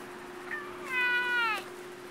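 A single drawn-out cat meow, close and clear, rising then falling, over a faint steady hum.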